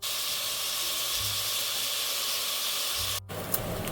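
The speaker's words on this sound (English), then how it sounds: "I'm about to throw the rest of this bacon in here so we can get to cooking" Bacon sizzles steadily in a hot pan, a loud, even hiss that runs on, breaks off briefly near the end, then comes back with a sharper spatter as more bacon goes in.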